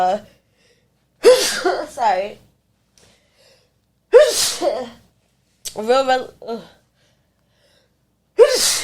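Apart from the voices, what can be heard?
sneeze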